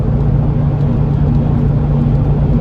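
Engine of a 2007 Ford Focus ST with a heavy-duty front intercooler, a steady low droning hum while driving, loud and continuous with no voices.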